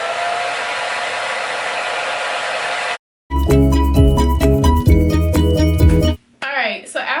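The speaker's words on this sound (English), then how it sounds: "I'm gonna take the blow dryer. I'm gonna do this on a nice cool setting on low" A blow dryer on a cool low setting blows air over a wig as a steady whooshing rush that cuts off abruptly after about three seconds, followed by loud music and then a brief burst of sound.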